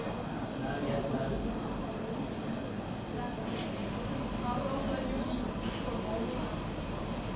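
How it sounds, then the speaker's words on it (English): A spray gun applying coloured cocoa butter onto chocolate designs in a chocolate demonstration, a steady, continuous hiss lasting throughout with slight changes in brightness, alongside faint background activity. "I'll just quickly run through and get this other lot sprayed."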